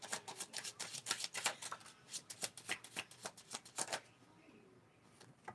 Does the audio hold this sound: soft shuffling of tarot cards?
yes